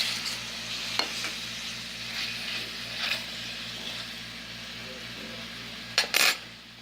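Pork sizzles in a pan with a soft, steady frying hiss over a low hum, punctuated by a few light metallic clinks and a brief clatter of utensils near the end.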